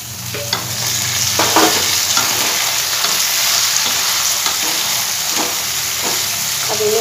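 Tomatoes added to golden-brown onions frying in a pan over medium-high heat, a loud continuous sizzle with repeated stirring scrapes and clicks of the spoon, close and alone.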